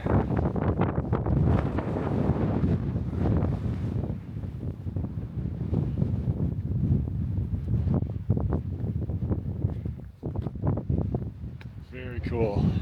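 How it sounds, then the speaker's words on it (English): Winter wind at the Grand Canyon rim buffets the microphone in heavy, gusting low rumbles that rise and fall throughout, with a voice speaking faintly beneath the blustering noise. "You can hear me over the wind."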